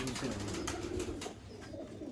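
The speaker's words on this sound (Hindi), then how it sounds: "ये देखें जी दोस्तों, नायाब कबूतर हैं।" Pigeons coo softly in low, repeated throaty murmurs, close by, over a faint background hiss.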